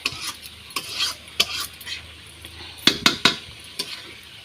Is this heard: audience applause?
no